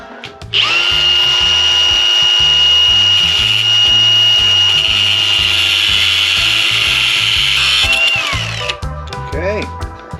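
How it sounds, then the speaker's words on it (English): Cutting a 12 mm wrench with a power tool: a loud, steady high whine lasting about eight seconds over a choppy low rumble, then spinning down into brief clanks. "I'm gonna cut this on one of my 12 mil wrench so I can put it in"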